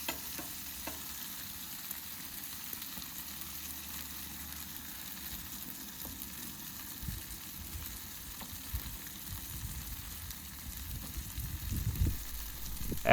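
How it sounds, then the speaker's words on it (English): Burger buns toasting in a pool of melted butter on a griddle, a soft, steady sizzle and hiss that runs evenly throughout, close and fairly quiet, with a few faint knocks near the end and no speech. "Melt butter on the griddle and place buns on the top of a pool of butter"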